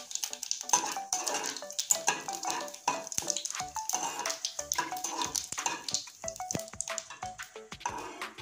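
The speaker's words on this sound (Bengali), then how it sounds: "ফোড়নে দিয়ে দেব জিরে ফোড়ন। ফোড়নটা আমি লাল করে ভেজে নেব।" Cumin seeds tempering in hot oil in a pan for a Bengali egg and potato curry, a steady crackling sizzle mixed with clinks and scrapes of a utensil against the pan, close and continuous.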